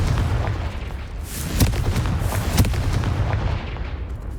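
A fire-blast explosion spell going off in the video game Hogwarts Legacy, heavy booming blasts over a rumbling wash, with two sharp bursts standing out near the middle.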